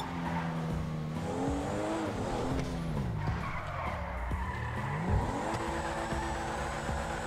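A Porsche driven in GTA V Online, with steady engine drone, shifting revs and long tire skids throughout, loud and continuous with no talking.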